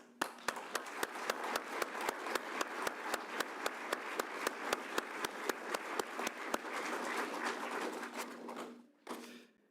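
An audience applauds at a graduation ceremony, starting with sharp, evenly spaced claps that swell into dense, continuous clapping before breaking off near the end, followed by a brief final burst.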